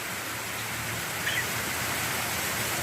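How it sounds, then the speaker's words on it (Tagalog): Heavy rain in the Philippines with a typhoon approaching, heard as a steady, dense hiss of downpour with no distinct drops standing out and no voices. "Lakas ng ulan."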